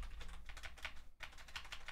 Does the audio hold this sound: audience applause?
no